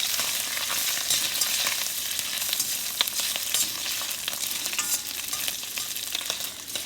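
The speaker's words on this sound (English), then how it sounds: "Now we're going to throw our shrimp in." Shrimp frying in a pan for an Asian-style cauliflower rice dish, a loud, continuous close sizzle with crackling pops and some stirring scrapes, no voices.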